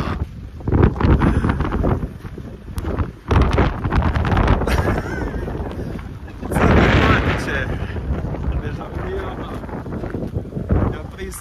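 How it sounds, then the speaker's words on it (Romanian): Strong wind buffets an outdoor microphone during a winter blizzard in Latvia, a rough continuous roar that swells and gusts across the clip, with people talking underneath. "Nu e atât de frig pe cât bate vântul."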